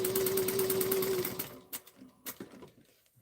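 A sewing machine back stitching seams on a bag, its fast mechanical whir running steadily for over a second before stopping, followed by a few short isolated stitch bursts and light handling clicks.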